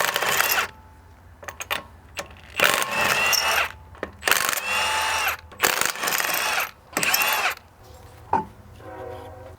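Ratchet with a 19 mm socket working on the rear of a 2011-2016 Hyundai Elantra during a wheel bearing job, heard as repeated bursts of close mechanical clicking and whirring separated by short pauses, with no talking.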